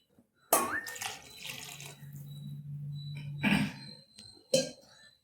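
Water splashes and pours steadily from a small vessel into a cooking pot for a few seconds, close by, with a couple of sharper splashes and clunks near the end.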